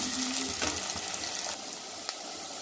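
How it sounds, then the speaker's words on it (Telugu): Thinly sliced onions sizzle steadily in hot oil in a pan for a chicken curry, a close, continuous crackling fry with faint stirring scrapes. "ఒక 2 నిమిషాల వరకు దూరగా అయ్యే వరకు వేయించుదామండి"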